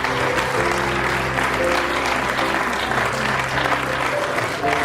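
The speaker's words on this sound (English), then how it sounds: "Please join me in providing a round of applause for all of our models and all of our Hare Krishna fashion designers." An audience at a Toronto Ratha Yatra fashion show applauds models and Hare Krishna designers, with dense, even clapping that holds loud and steady throughout and a faint voice or music tone running underneath.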